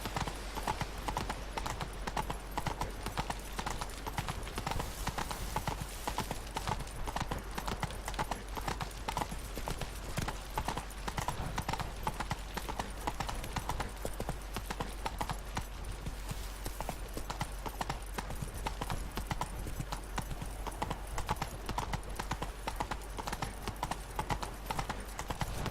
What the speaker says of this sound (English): Just a horse standing there for no reason.